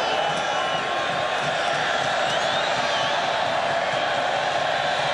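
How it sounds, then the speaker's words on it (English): A packed stadium crowd at Kyle Field during a 1991 LSU at Texas A&M college football game, a dense continuous roar of many distant voices, steady and full throughout. "Just a beautiful crowd on a beautiful day."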